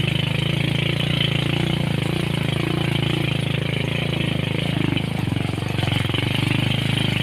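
A trail motorcycle engine idles steadily near a large farm field at harvest time, a continuous low rumble with no spoken voices.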